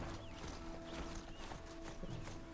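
Faint horse hooves clip-clopping in the video game Horizon Zero Dawn: soft, rapid irregular steps at a distance, over a quiet ambient hum and game sounds, with no talking.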